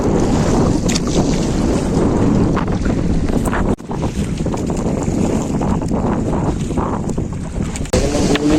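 Strong sea waves slap against a fishing boat on rough water, with heavy wind buffeting the microphone in a loud, continuous rush broken by a sudden thump of hull and spray.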